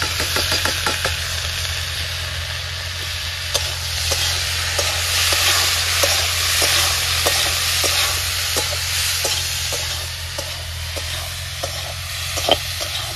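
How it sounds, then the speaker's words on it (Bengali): Boiled banana flower fries in a pan with a loud, steady sizzle, punctuated by rhythmic spatula scrapes and taps against the pan over a low constant hum; no talking. "ভালো করে ভেজে নিতে হবে"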